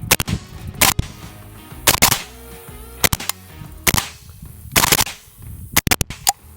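Suppressed AK rifle fitted with a ZVUK suppressor fires about a dozen loud, sharp shots at a range, in irregular singles and quick pairs, each followed by a short decaying tail.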